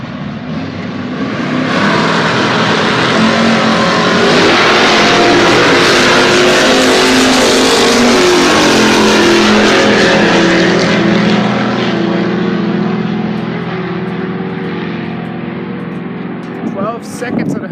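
A 1969 Chevelle and a Dodge drag racing side by side at Rocky Mountain Speedway, engines roaring loud and sustained as they launch and tear down the strip, fading slightly near the end, with a voice talking underneath.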